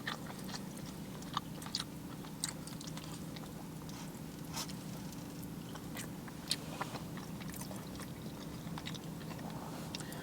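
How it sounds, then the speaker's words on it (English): Seasoned shrimp from a food truck being chewed right up close, with soft, steady, crunchy bites that are quiet over a low background hum. "Let's try another shrimp."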